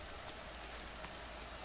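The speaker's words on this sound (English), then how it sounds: "And it's starting to rain." Rain begins falling in the survival video game The Forest, a steady hiss of drops on surfaces, soft and even throughout with a few slightly louder patters.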